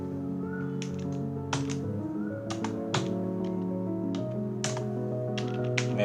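Keys tapping in short clusters on a computer keyboard during building-plan drafting work, the clicks sparse and irregular over a steady low electrical hum, close and fairly quiet.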